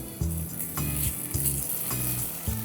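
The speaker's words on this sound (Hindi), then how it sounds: "प्याज को हम 1 मिनट के लिए भून लेंगे।" Chopped onion with ginger garlic paste frying in hot oil, a steady close sizzle broken by a few repeated low scraping stirs in the pan.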